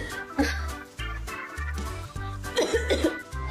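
Sharp coughs and throat-clearing bursts from friends aimed at a puppy, several separate hacks landing over a steady, thumping, music-like beat.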